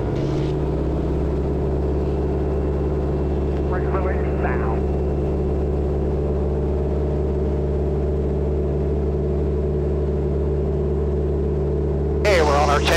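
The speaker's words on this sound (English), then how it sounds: "Hey, we're on our takeoff roll, Mike." A tailwheel aerobatic airplane on its takeoff roll gives a loud, steady engine drone that runs unbroken throughout, with brief bursts of noise near the start and end.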